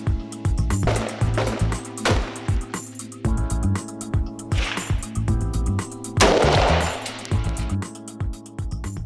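Old military rifles firing at a regulation-arms shooting competition in France, a series of sharp, loud reports spaced a second or two apart, each with a short ringing tail, under a steady mechanical hum.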